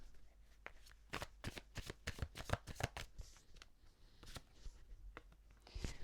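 Tarot cards are shuffled and drawn by hand, giving a close run of sharp riffling snaps and flicks that tails off into softer slides, faint and alone.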